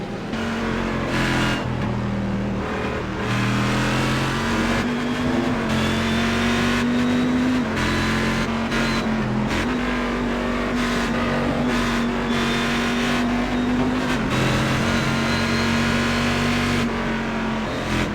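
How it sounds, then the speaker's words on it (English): Corvette GT1 race car in an iRacing sim race at Mosport, its engine holding a loud steady drone with small shifts in pitch as it accelerates and shifts gears, heard up close with no voices. "Love the sound of that Corvette,"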